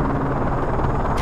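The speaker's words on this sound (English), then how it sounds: "Enemy chopper closing on your position." An enemy helicopter in Call of Duty Modern Warfare 3 approaches as a steady, low rotor rumble that holds close and loud for about a second, with no talking.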